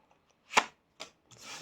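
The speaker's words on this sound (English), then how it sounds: "Flip some cards with y'all" Tarot cards being flipped and laid down, a few quick papery slaps and a soft shuffling rustle, close and crisp in a quiet room.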